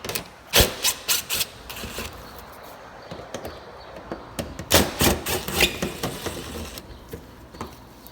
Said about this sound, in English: there's two Phillips screws right here that need to come out.